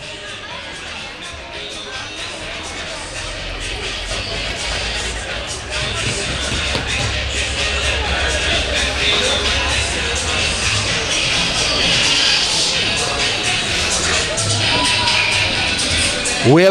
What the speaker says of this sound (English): We have a pretty good crowd on hand tonight.